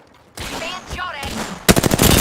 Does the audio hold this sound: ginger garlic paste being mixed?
no